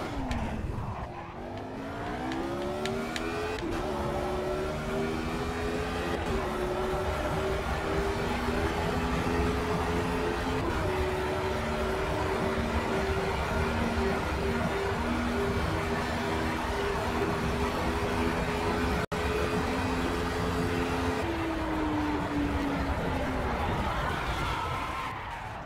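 Race car engines in the Project CARS video game rev and climb through gears with whining tones, shifting pitch several times over a sustained run before winding down, while players talk over the racket.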